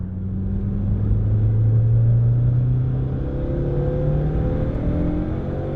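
A 220-horsepower Fiat Punto GT with a 1.4 turbo engine and hybrid T25 turbo accelerates hard, a loud, steady rising drone heard from inside the car with no talk.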